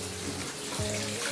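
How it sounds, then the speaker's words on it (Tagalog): Water runs steadily from a faucet left open in a messy home, a continuous close hiss and splash filling the short stretch with no voices. "Ba't iniiwan yung bukas yung gripo?"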